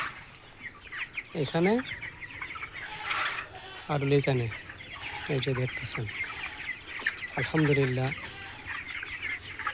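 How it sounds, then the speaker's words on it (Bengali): Around two thousand chickens in a poultry farm, giving repeated loud clucking calls in bursts with a dense flock murmur beneath, while someone talks over them. "এই যে আমার এখানে 2000 মুরগি,"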